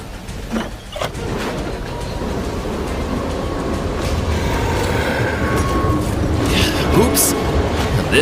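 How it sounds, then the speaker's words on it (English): A video game train rumbles along under loud, continuous mechanical noise with rattling and clicking, and brief sharp clanks and squeals break through near the end. "Luckily I can drive trains."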